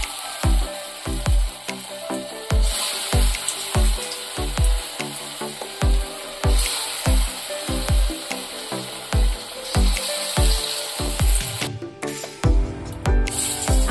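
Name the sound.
masoor dal fritters (bora) frying in hot oil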